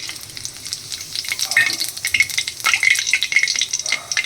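Cumin seeds and whole spices sizzle steadily in hot oil for a tempering while cooking ghugni, a crackling frying hiss with small pops throughout, close and alone.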